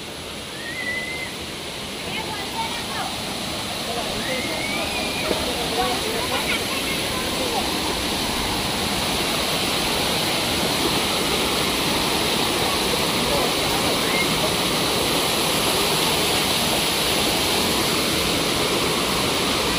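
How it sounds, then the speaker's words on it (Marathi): Steady, loud roar of rushing water fills the whole stretch during a family outing in the rainy season, with no breaks and no voices rising above it. "पाऊस नाही आहे पण पाणी आहे बऱ्यापैकी."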